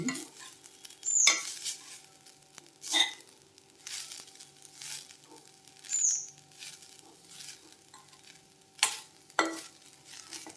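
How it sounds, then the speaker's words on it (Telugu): Grated coconut being roasted and stirred in a pan over a medium flame, with soft sizzling and a few louder scraping stirs at irregular intervals. "ఇలా మిక్స్ చేస్తా మీడియం ఫ్లేమ్లో పెట్టుకొని బాగా రోస్ట్ చేసుకోవాలి కొబ్బరి."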